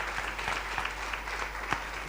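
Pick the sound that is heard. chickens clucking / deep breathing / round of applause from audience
round of applause from audience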